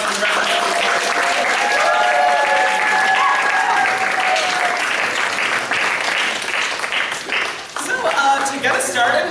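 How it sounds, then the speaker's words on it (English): A live comedy crowd bursts into loud, sustained applause for an improv troupe taking the stage, dense clapping with some cheering and whistles that carries on for several seconds, then thins briefly before swelling again near the end. "So can you all give a big round of applause for the rest of my troupe?"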